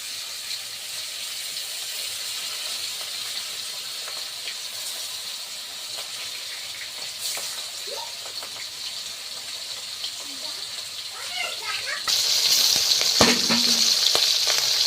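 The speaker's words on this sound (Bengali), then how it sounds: "এবার আমি আস্তে আস্তে তেলে মাছগুলো দিয়ে ভেজে নেব।" Pieces of big rupchanda fish, rubbed with salt and turmeric, fry in hot oil: a steady hiss that swells suddenly louder and brighter near the end as more pieces hit the oil.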